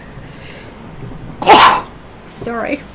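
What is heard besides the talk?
sneeze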